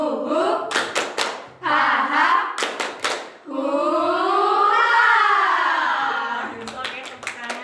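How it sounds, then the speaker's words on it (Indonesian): A group doing a tepuk semangat spirit clap claps together in quick, patterned bursts, up close and loud, with short laughter and cheering voices in between. "belajar dulu tepuk semangat aja ya. Tepuk semangat."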